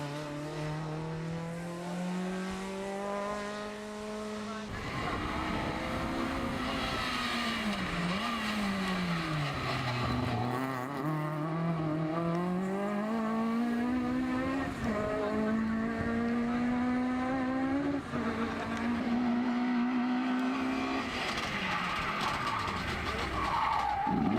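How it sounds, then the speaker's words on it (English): A rally car pushing hard through a stage, its engine revving and dipping through shifts and corners with tyres skidding, heard steadily over a long stretch while a commentator talks over it. "Wayne Archer continued to acclimatize to his new car as he worked steadily to catch up to Corbin's pace."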